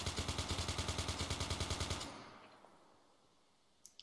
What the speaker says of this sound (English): He's like, he has a chain gun.